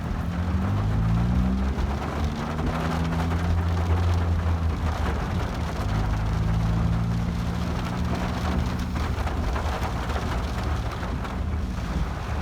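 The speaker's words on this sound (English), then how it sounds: "it's raining." Steady rain falls on a caravan awning, a continuous dense patter with low rumbling wind noise on the microphone throughout.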